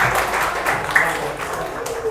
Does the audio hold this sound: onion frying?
no